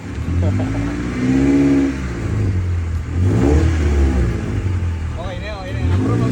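A car engine starts and revs after throttle body work, rising and falling in several close revs with a rough idle between, while people talk nearby.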